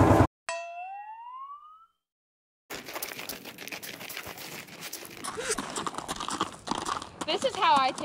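Horse hooves clop along steadily while people talk nearby at a barn in the morning, after a brief rising whistle-like tone and a moment of silence.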